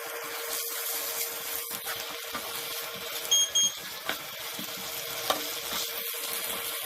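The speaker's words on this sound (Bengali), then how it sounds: "পেঁয়াজটাকে আমি ব্রাউন করে ভেজে নেব এর ভেতরে আমি শুধু রসুন বাটা দিয়ে দিচ্ছি" Chopped onions fry with garlic paste in a pan, giving a continuous close sizzle with a few soft clicks of stirring and a brief high electronic beep partway through.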